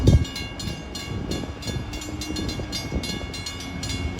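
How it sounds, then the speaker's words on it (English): A Long Island Rail Road Port Jefferson Branch commuter train rumbles and clatters along the rails approaching a station, with rhythmic clicking of wheels, moderately close, steady throughout. "Approaching train is the equipment for train 657"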